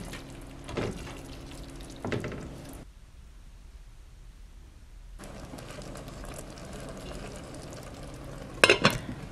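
Cooked noodles being stirred into a sausage sauce in a frying pan, with soft scraping and sizzling bursts near the start and end around a quieter stretch, plus a sharp clink near the end.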